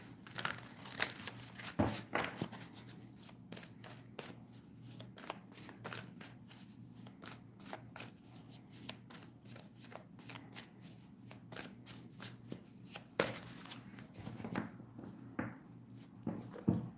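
Deck of tarot cards being shuffled by hand, close and quiet, with a continuous papery riffling and frequent sharp card snaps over about seventeen seconds.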